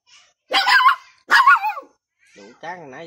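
Dog barking twice in quick bursts, fairly close, in a rural household setting in Tiền Giang, with people talking briefly afterward.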